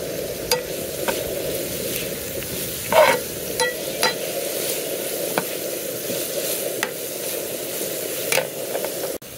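Carrots go into a pan of frying onion and sea robin (gurnard) fish fillets, giving a steady sizzle broken by a few sharp clicks and stirring taps.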